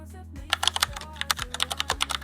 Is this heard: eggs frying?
no